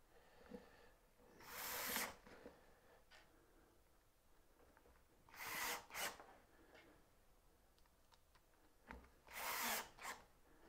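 A power driver sets screws into wood while a dovetail jig with stops is assembled, with three short whirring bursts separated by quiet pauses and light handling noise.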